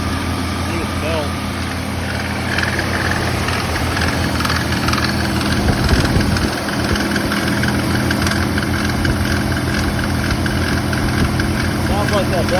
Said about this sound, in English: Sounds like that belt's not on tight.